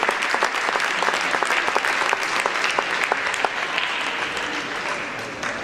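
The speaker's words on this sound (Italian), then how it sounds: "Un applauso agli atleti dello Shito Ryu." Applause for Shito Ryu martial arts athletes at a martial arts gala in Venice, a steady crowd clapping loudly throughout with distinct sharp individual claps standing out near the front.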